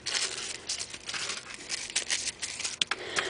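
Extra tape gets cut off by hand, close up: a continuous crinkling, tearing rustle with small snips and crackles running through, and no voices.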